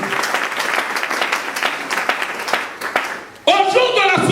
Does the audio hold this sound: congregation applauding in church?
yes